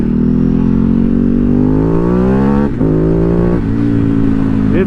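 Ducati Streetfighter 848 motorcycle engine revving up loud and close, its pitch climbing steadily before two brief dips as the throttle blips, with no talk.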